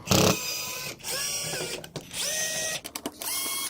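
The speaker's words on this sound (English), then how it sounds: "Stick the battery in the drill. Alright, so on the bottom of the box we got four screws here." A cordless drill backs four screws out of the bottom of a box, its motor whining up and down in several short bursts with brief pauses between them.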